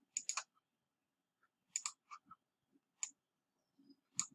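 Crisp computer mouse clicks in a quiet room, arriving in small clusters of two or three quick taps with short pauses between, close and clear with nothing else around them.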